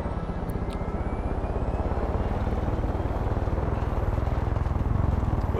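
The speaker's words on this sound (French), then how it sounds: "Ah, y'a l'hélico." A helicopter in the video game Far Cry 5 drones steadily with a fast, even rotor chop and constant engine roar, loud and sustained throughout with no talk over it.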